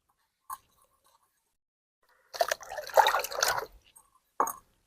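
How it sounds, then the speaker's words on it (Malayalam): Orange sweet potatoes are washed in water, with a short splash, then a longer burst of sloshing and rubbing, and another brief splash amid quiet. "അപ്പൊ നമുക്ക് മധുരക്കിഴങ്ങ് ഒന്ന് കഴുകിയിട്ട് നമുക്ക് കട്ട് ചെയ്ത് നോക്കാം"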